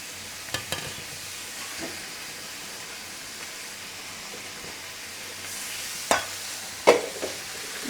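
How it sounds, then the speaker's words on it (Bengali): Fish pieces laid into spiced masala frying in a pan during a picnic cook-up give a soft continuous sizzle, broken by a few sharp clinks and scrapes of a spatula against the pan. "এই যে মাছ, মশলা কষানো শেষ, এখন মাছগুলো দিয়ে দিচ্ছি।"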